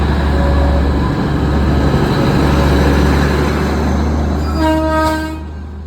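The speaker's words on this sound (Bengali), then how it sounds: "আমরা ঠিক যেই সময়ে ওখানে পৌঁছেছি তার ঠিক 5 মিনিট পরেই টয় ট্রেনটা সেখানে এসে দাঁড়ায়।" The Darjeeling toy train pulls into a station with a loud, continuous low rumble and rattle of wagons, then a clear horn toot near the end, heard up close.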